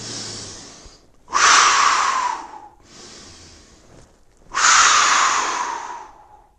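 Two deep breath cycles come during a resistance band back exercise: each is a long, airy inhale followed by a louder, forceful exhale, close and alone with short pauses between.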